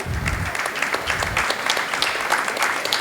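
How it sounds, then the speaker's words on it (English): Students in a university audience at a panel discussion applaud volunteers being honoured, a loud, dense, continuous round of clapping that lasts the whole stretch. "a loud round of applause for the student volunteers"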